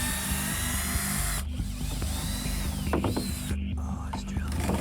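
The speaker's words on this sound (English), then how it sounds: "Oh, it's drilling." A power drill whirs in bursts against a busy mechanical background of hum and clatter, with short ratcheting and squealing tones partway through and faint voices nearby.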